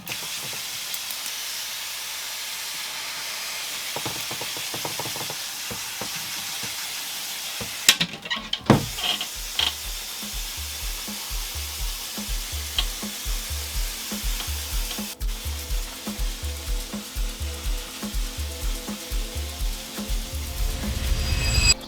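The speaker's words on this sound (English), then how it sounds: "I gotta come spray them down" Water mist sprayed over frogs in a reptile enclosure, short hissing bursts from a spray bottle with clicks and handling noises, close by and without talk.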